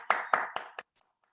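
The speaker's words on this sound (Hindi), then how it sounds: "सभी के लिए एक बार जोरदार तालियां।" Four sharp hand claps in a quick, slightly uneven run, fading toward the end, as online webinar participants give everyone a round of loud applause; no voices.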